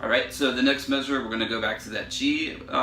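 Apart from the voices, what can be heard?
No distinct noise like a dog, phone or traffic.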